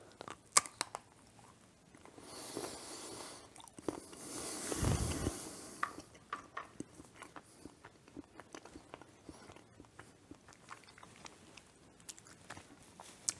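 Homemade Goo Goo Cluster candy being chewed close up, with crisp irregular crunches and bites scattered across the clip and a brief louder rustle near the start.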